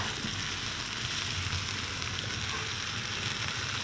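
Pieces of meat that have just been turned sizzle and fry in a pan, a dense, steady crackling hiss that runs continuously and close up, with no voices.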